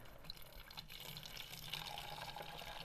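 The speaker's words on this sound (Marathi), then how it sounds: "चला आता थोडा पाणी भरून घेऊ याच्यामध्ये" Cold water runs steadily into a bottle outdoors in a farm field, a quiet continuous trickle and splash with faint background hiss and no talking.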